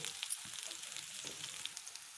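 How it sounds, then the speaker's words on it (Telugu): Ginger garlic paste fries in hot oil in a pan, a soft continuous sizzle with small crackles and pops throughout, fairly quiet and close with no voices. "1 నిమిషం పచ్చివాసన పోయేంత వరకు ఫ్రై కానివ్వాలి"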